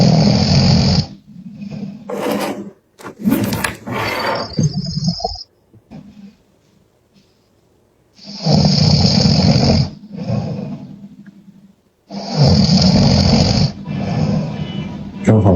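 A person snores over a live-stream call in loud, rough, rumbling bursts a few seconds long, separated by quiet pauses, heard close and alone.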